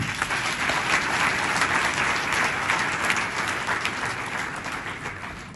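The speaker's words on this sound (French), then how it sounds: "Est-ce qu'on peut l'acclamer très fort?" An audience at a book presentation applauds and cheers loudly, a thick, continuous wash of clapping and crowd noise that tapers slightly at the end.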